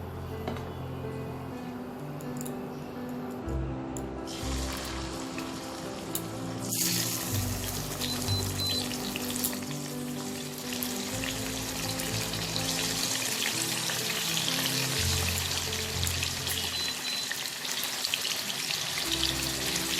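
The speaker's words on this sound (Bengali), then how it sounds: "এবার এই তেলে আমি মাছটা ভেজে নেব।" Loud, continuous sizzling of hilsa fish frying in hot oil, with a sharp hiss that swells partway through and then crackles steadily, close up.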